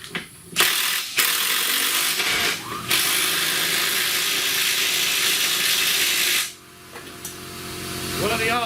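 A battery power tool, likely an impact driver or ratchet, runs loud and near in long sustained bursts with brief gaps while snugging a nut on a Chrysler Town & Country lower control arm in a home garage.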